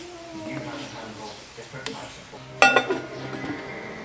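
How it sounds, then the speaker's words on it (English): A spoon stirring beans in a cooking pot on a gas stove, giving a few scrapes and sharp metallic clinks against the pot, the loudest near the end, with people talking quietly throughout. "Just easing beans over in there. Give it a little stir."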